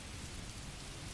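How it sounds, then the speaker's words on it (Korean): Rain and wind storm on a typhoon day, a steady, dense wash of rainfall with a low rumbling undertone, loud and continuous with no voices. "그 빗소리나 바람 소리가 아닌"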